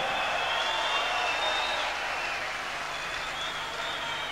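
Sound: concert audience applause

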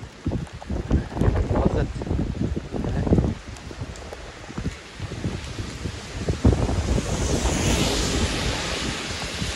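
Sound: strong wind during Typhoon Kong-Rey in Taiwan

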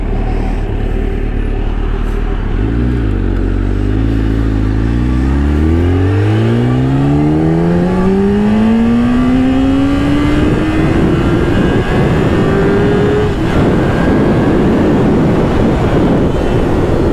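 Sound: 2004 Kawasaki ZX10R motorcycle engine revving while riding

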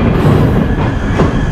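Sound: train passing on rails

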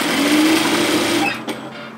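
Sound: sewing machine sewing a seam

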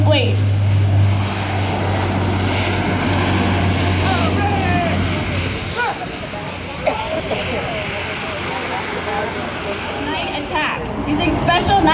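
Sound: KC-130 aircraft engines departing at Miramar airshow

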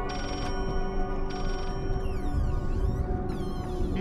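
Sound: telephone ringing in a horror video game

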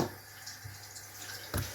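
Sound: pouring water over beets and vegetables in a pot

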